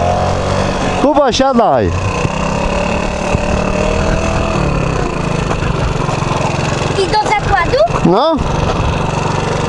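A scooter engine idles steadily throughout as a constant low hum, with people talking close by in bursts near the start and end.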